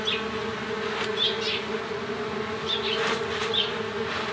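Bees buzzing around azalea bushes in a garden, a steady insect hum with individual bees passing close at intervals, moderately loud outdoors with no talking.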